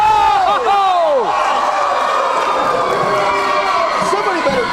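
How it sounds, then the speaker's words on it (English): A wrestling arena crowd roars loudly and continuously, shouting and cheering in a dense wash of noise, with a commentator's voice rising over the din at the start and end. "This crowd is going nuts."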